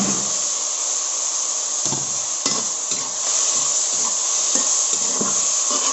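Chopped tomatoes frying in hot oil with turmeric in a pan, a steady close sizzle and hiss throughout with a few soft stirring knocks.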